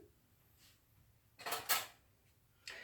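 A household tablespoon grabbed in a kitchen, with a soft drawer slide and metallic clinks and rattles of cutlery in a few quick bursts, close and fairly quiet.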